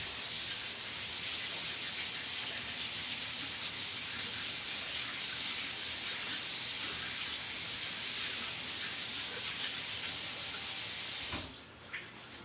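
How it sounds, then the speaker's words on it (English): Tap water runs in a steady hissing spray for hand washing, constant and close, then cuts off abruptly near the end, with no one speaking. "Alright, I'm going to wash my hands."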